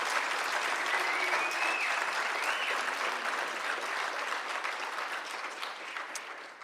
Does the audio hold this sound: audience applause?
yes